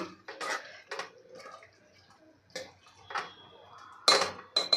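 Rajma masala is stirred in a pot after water is added, with intermittent scraping and clinking bursts of a spoon against metal, close and irregular.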